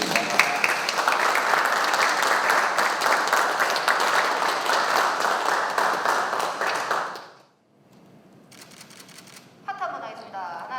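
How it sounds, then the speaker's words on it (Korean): A board meeting of a city sports council in Tongyeong breaks into loud, sustained clapping that stops abruptly, followed by a short quiet gap and then a few scattered claps and voices. "박수 부탁드리니다"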